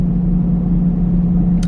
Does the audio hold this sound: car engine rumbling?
yes